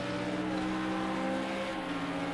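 A race car engine holds a steady, droning tone under throttle in the Project Cars 2 racing game, running loud and continuous through a hairpin with a constant harmonic hum and no voices.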